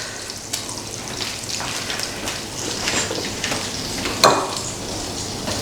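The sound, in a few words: fish sizzling while frying in a pan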